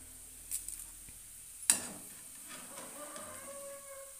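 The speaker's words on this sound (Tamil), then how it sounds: "எல்லாத்தையும் எடுத்து நல்லா மிக்ஸ் பண்ணிக்கலாம்." Garlic and curry leaves being stirred in a pan after frying crisp, a steady soft hiss with a few scraping stir strokes and one sharp clink of the utensil against the pan.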